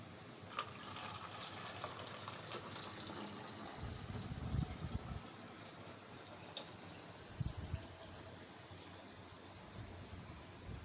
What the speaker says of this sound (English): Again shift the water in bottle.